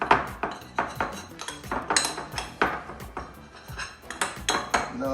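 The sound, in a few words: mixing paprika and spices in a small vessel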